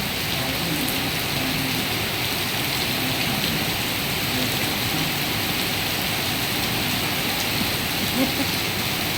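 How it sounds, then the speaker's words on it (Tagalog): Heavy rain falls continuously, a broad constant wash of noise with no pauses and no voices. "Hinabot ng ulan"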